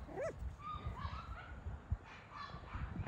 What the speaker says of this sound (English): You can hear dogs in the background probably.